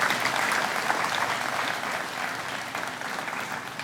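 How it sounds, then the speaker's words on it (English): Steady applause from a crowd at an outdoor honor ceremony for a police academy honor guard, dense clapping that slowly eases off over a few seconds. "How about a round of applause for our honor guard from Class 147 of the Police Academy?"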